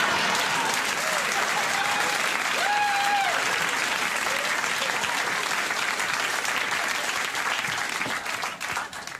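Studio audience applause on a late-night talk show, a dense sustained burst of clapping with some cheers that holds loud for several seconds before starting to taper at the end.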